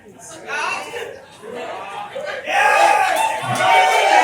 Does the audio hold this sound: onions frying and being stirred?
no